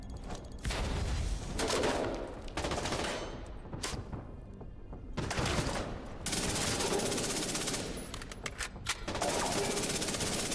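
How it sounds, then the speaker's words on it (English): Heavy gunfire and blasts in The Division 2 video game, with sustained loud bursts of shooting and explosive booms across the whole stretch, broken by a few short pauses. "Watch out, grenade incoming."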